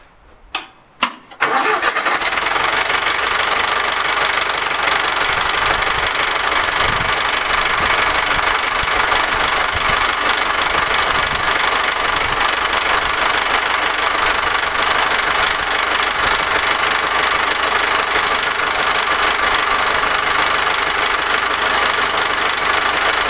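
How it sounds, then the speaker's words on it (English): An IH 2250 tractor engine cranks over and fires after a couple of brief starter bursts, then settles into a steady, loud, close idle that runs on alone for about twenty seconds. "So what I'm going to do now is start the tractor and suck the cylinders in."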